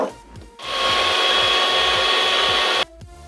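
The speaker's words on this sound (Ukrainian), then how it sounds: "беремо білки і швидко збиваємо на швидкій скорості" Electric mixer whipping egg whites at high speed, a loud steady high-pitched whir running for a little over two seconds, with short quieter moments before and after.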